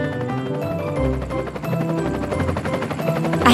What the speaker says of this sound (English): A helicopter is flying in the sky.